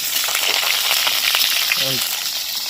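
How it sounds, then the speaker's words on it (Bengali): Diced potatoes fry in hot oil with a steady, close hiss, broken by light scraping and faint spatula clinks, for frying prawn curry with green jackfruit. "আলুগুলোকে পুরো লাল করে ভেজে নিতে হবে"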